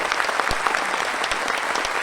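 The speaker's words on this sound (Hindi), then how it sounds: "जोरदार तालियों का अभिनंदन करो आप सभी लोगों को" A big audience claps loudly and steadily through a religious discourse gathering marking Maharshi Dayanand Saraswati's 200th birth anniversary, a dense wash of hand claps with a few sharper individual claps standing out.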